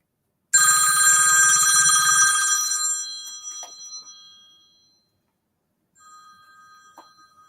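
A telephone rings indoors with a bright electronic trill that sounds once, decays over a few seconds, then sounds briefly again more faintly.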